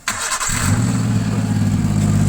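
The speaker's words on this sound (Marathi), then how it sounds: "गाडीचा आवाज सायलेन्सरचा आवाज वगैरे आला, त्यामुळे गाडी चालू आहे." A Suzuki Super Carry engine, fixed after a faulty fuel pump, cranks briefly and then catches, settling into a steady, loud close-up idle with no talking.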